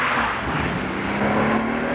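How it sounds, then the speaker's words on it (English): A Porsche 911 drives at speed on the Autobahn, its engine holding a steady droning hum with rushing road and wind noise, loud and continuous throughout. "They test drive every 911 on the Autobahn"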